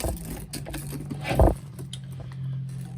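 Keys jangle as they are dropped into a Coach Rowan satchel handbag, a brief metallic clatter peaking midway over a steady background hum.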